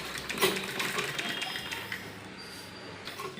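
A sewing machine stitches a school uniform button placket, running in a steady fast close-up whir of rapid needle clatter for the whole stretch, with faint speech in the background.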